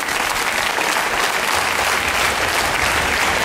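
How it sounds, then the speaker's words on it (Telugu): An audience at an education department gathering gives a big round of applause, a dense, loud, steady clapping from many people that continues through the whole stretch. "ఒక big clap to those 3 districts"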